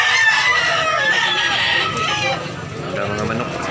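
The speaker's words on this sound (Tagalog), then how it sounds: "Daming manok talaga dol." Chickens and roosters from the South Cebu mountains at a busy Tabunok, Talisay market, crowing and clucking steadily and close by over a continuous crowd murmur, with people talking throughout.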